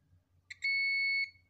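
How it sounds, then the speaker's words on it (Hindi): A multimeter continuity beep sounds as a steady electronic tone lasting about half a second after a brief click, while a phone display's cathode line is tested during a Redmi Go repair. "ये देख लीजिए कैथोड का लाइन पे बीप आ रहा है"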